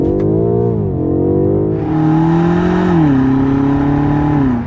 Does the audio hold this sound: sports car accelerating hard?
yes